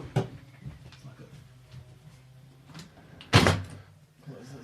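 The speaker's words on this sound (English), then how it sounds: "I'm just gonna close that door." An indoor door swings shut with one solid thump after some faint shuffling and handling sounds, fairly close and fairly loud against a quiet room.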